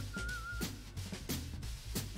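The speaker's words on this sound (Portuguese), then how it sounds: "Dança nova. Assobiando e andando." A short melodic whistled tune from a whistling-and-walking dance emote in Fortnite, fairly faint over background music with a rhythmic beat and low bass thumps.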